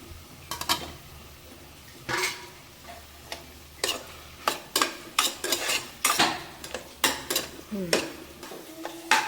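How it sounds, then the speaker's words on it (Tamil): Mushrooms sautéing with softened tomatoes in a pan, a soft sizzle under a series of distinct, close scrapes and metallic clinks of a spoon stirring at an irregular pace, no talking. "இப்போ நல்லா தக்காளி வதங்கிடுச்சு மஷ்ரூமை போட்டுடலாம்"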